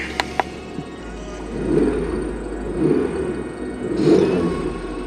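A car engine revving during an OBD2 scanner test, three short swelling revs rising and falling close by over a steady idle, with a couple of sharp clicks at the start.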